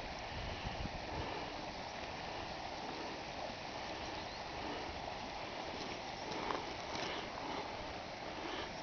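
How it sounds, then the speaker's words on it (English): Flash flood water rushes continuously with a broad, steady roar, like a strong flow pouring past nearby. "I thought I heard the water coming down here."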